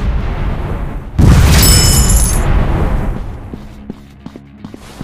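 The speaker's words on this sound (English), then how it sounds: "Grenade! Get down! Grenade, move!" A grenade goes off in an Android first-person shooter, a single loud, close boom that rolls off over a couple of seconds, followed by faint scattered game sounds.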